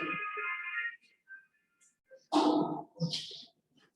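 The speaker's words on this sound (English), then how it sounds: "That's a good ringtone, man." A short electronic phone ringtone chimes for about a second, then gives way to a few scattered brief noises and near silence.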